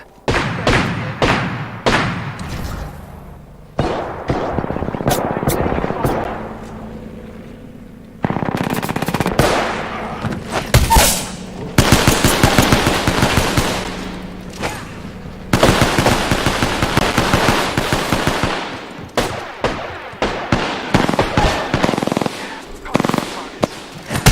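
Automatic gunfire in the Apex Legends video game crackles almost nonstop in loud, rapid bursts separated by short pauses, with heavier thumps mixed into the dense volleys.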